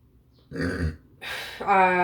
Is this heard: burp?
yes